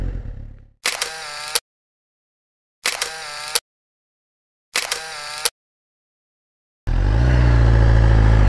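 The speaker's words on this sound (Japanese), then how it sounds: "せっかくだからちょっと写真でも撮るか" A camera shutter fires in three separate bursts with silence between them, on a winter motorcycle day trip along the Boso Peninsula flower line. A Suzuki GSX-R1000 K7 engine then starts loud and close at the end.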